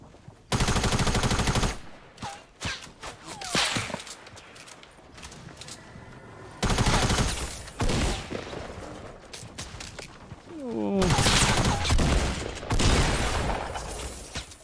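Gunfire in a Fortnite match comes in loud rapid bursts, automatic fire in three dense volleys separated by quieter stretches of game noise and scattered single shots.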